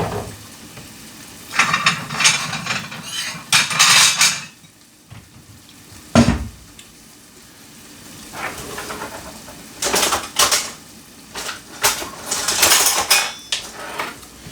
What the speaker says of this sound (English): All that remains is to dish it up.